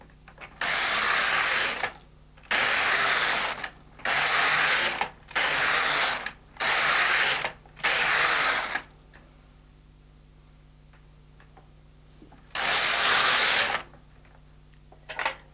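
An LK150 knitting machine knits rows of scrap knitting, its carriage making six rapid rasping mechanical sweeps in a steady rhythm, a pause, then one more sweep; loud and close with no talking.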